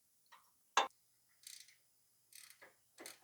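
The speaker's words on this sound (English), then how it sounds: "This is an 18mm 1/2-inch ratchet and socket." An 18mm half-inch ratchet and socket loosen a lower shock bolt on a Ford F250-350 Super Duty, producing several short bursts of close, crisp ratcheting clicks separated by pauses, with no talking.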